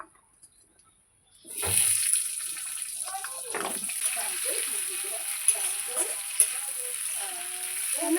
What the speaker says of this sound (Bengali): আলুগুলো ভালো করে লাল লাল করে ভেজে নেবো